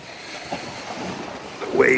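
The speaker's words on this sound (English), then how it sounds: "waves are gonna splash me about" Cold sea water sloshes and splashes around a person during an outdoor cold plunge, steady and close with wind buffeting the microphone.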